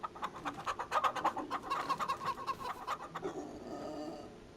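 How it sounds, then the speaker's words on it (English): Chickens clucking in Farming Simulator 25 on a farm, a busy run of repeated short calls and squawks close by for several seconds, easing off toward the end. "Chickens."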